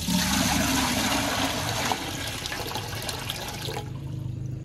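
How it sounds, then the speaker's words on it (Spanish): Water rushing into a cooking pot to steam pineapple tamales in a home kitchen, a loud, steady gushing pour that fills the space, easing slightly partway through and then tapering off. "Le vamos a agregar el agua a la olla."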